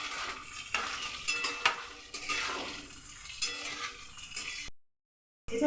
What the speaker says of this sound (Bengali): এর মধ্যে আমি দিয়ে দিচ্ছি এবারে বিনসগুলো। এটা একটু ভালো করে ভেজে নিই।